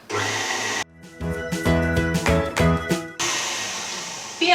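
A loud electric mixer motor whirs steadily, cutting out briefly, then returning with rattling, clattering noise while whisking eggs with sugar and oil before settling into a steady hum.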